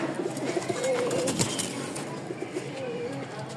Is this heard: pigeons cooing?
yes